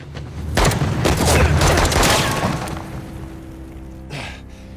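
Gunfire in the video game Uncharted: The Lost Legacy, a loud burst of rapid shots and booms lasting about two seconds, then fading into a reverberant tail with one fainter shot afterward.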